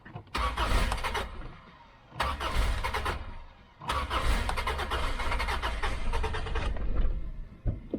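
A 1995 Subaru car engine is cranked with a starter button in three bursts, the first two brief and the third catching into a steady run, loud and close with no talk.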